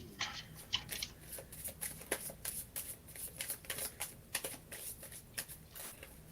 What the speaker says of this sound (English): She's shuffling funny.